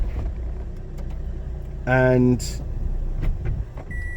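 Power folding hood of a 2014 Mazda MX-5 Roadster Coupe 1.8 SE operating: a steady electric motor whine with a harmonic hum for about half a second, followed by a short mechanical whir, under a low background rumble.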